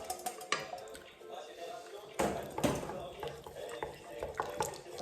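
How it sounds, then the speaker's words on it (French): Hot cream is stirred into Kinder chocolate for a ganache, giving irregular scraping and clinking of a utensil against a bowl, with a louder burst of clatter midway. "On mélange bien par le milieu pour créer un noyau."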